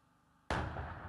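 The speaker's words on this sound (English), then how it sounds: "this bang you just heard, this is the same smallest kamikaze drone" A small kamikaze drone explodes far off, a single sudden sharp bang that follows a quiet stretch and then dies away in a rumbling echo, with no voices.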